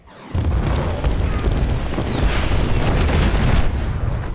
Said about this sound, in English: Tomahawk impact in 3, 2.